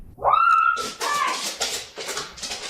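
A dog whines with a high, rising cry near the start, then faint yelps and whimpers follow in short bursts. Agitated voices and scuffling sound over the top of it.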